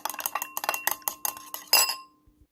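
Egg mixture whisked briskly in a bowl, a quick run of bright clinking taps of utensil against the bowl, about a dozen close strikes in uneven rhythm, ending with one louder ringing clink and a soft fade.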